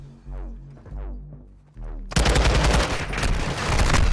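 Rapid automatic gunfire from a cheating player's weapon in a first-person shooter video game, a few separate tonal shots followed by a loud, dense sustained burst of fire.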